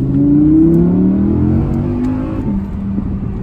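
Audi R8 V10 of 2020, the last naturally aspirated version with 620 hp, revving loud and close with a sharpening engine note and a few exhaust pops near the end.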